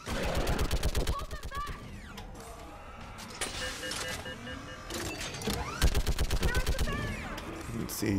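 Rapid bursts of heavy mounted-gun fire in a Mass Effect 3 fight, loud repeated volleys separated by a quieter stretch with background combat noise.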